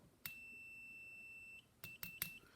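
An Amazon 80CM800 True RMS clamp meter buzzer emits a sustained high beep, followed by a few quick clicks and a shorter repeated beep, in a quiet room.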